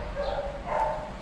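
A beagle left alone barks in two quick yipping bursts, close by and moderately loud, with a slightly whimpering tone.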